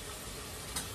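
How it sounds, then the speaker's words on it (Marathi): Chopped onion and tomato fry in a pan, giving a steady, even sizzle throughout with a small crackle near the end, and no voices. "बस असं कांदा थोडासा परतून घेते."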